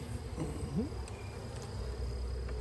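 A steady, low buzz of honeybees at a hive drones throughout, like many bees humming together up close, with faint scattered higher tones and no talking.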